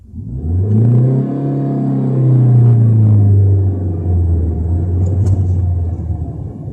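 A manual stick-shift car pulls away jerkily, its engine rumbling loud and close, revs rising then holding in a long uneven drone with a slight lurch partway through.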